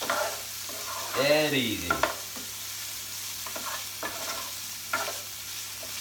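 Prawns frying in a pan with garlic paste give a soft, steady sizzle and some stirring scrapes, with a brief spoken remark near the start.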